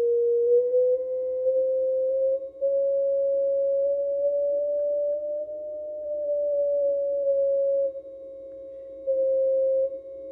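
Steady single sine tone from a CFT1 five-band CW field transceiver receiver during calibration tuning, its pitch drifting slightly upward as the knob turns and its loudness stepping up and down over a faint hiss.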